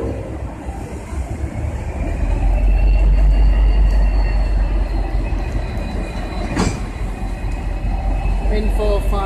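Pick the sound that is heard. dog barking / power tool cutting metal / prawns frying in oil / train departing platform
train departing platform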